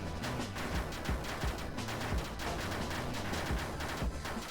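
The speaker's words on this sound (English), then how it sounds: "The explosions really help clear out the weak stuff." Rapid explosions and blasts in the block-busting video game To The Core, a dense rattling string of sharp bangs with thumping low hits, fairly quiet and continuous.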